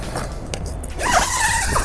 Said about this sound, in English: we've got a door that can be unzipped all the way once I've found the zipper